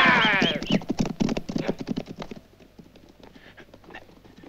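Horses' hooves clip-clop in a spaghetti western ranch scene, a loud whinny up front, then a rapid hoofbeat rhythm that grows softer as the riders move away.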